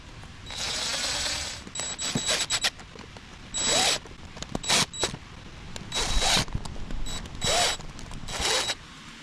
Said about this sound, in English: let's get these 7mm nuts tightened up